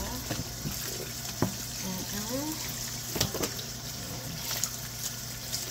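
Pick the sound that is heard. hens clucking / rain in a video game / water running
water running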